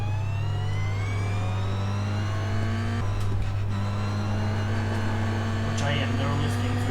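GT4 race car driving on a track, a steady loud engine drone with a sustained low hum and rising harmonics, a brief rougher burst midway, heard from inside the car with occasional voice.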